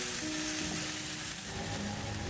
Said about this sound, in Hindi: भिंडी हमारी बहुत अच्छी तरह फ्राई हो चुकी हुई है